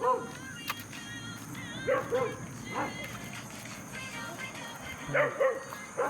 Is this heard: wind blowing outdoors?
no